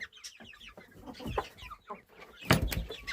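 Chickens clucking on snow in short, irregular bursts, with a louder rooster-like call near the end; a close, busy farmyard sound.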